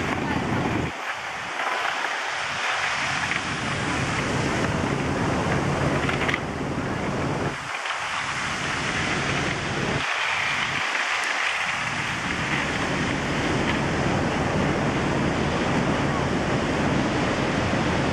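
Water rushing into the lock chamber at Ballard Locks in Seattle, a loud continuous roaring wash of turbulent water, steady and broadband, with occasional wind buffeting on the microphone.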